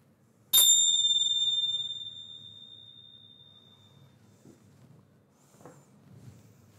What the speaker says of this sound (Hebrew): כשאני אצלצל בפעמון, ההצגה תתחיל